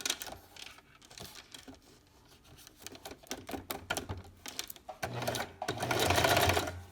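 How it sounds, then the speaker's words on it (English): A sewing machine runs zigzag top stitching in yellow thread on a baby sleeper, loud and close, with rapid mechanical chattering in stops and starts and a longer continuous run near the end. "we're gonna top stitch. Mine will be pretty darn obvious because I am doing yellow thread. I'm doing a zigzag."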